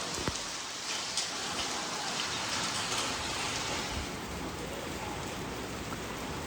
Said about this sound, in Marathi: हे बघा किती जोरात पाऊस पडतोय